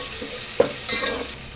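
Onions fry in oil in a pan while being stirred, with a brief scrape of the spoon over a close, soft sizzle.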